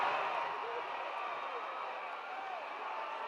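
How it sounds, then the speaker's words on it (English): A large crowd roars at a 1969 Houston pro wrestling match between Johnny Valentine and Bull Curry, a steady wash of cheering and shouting throughout, dense and somewhat distant. "Listen to this crowd."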